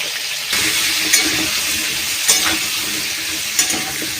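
Potatoes and pointed gourd frying in hot oil for a vegetarian potato-and-gourd dum: a steady, close sizzle with a few sharp clinks of a utensil against the pan.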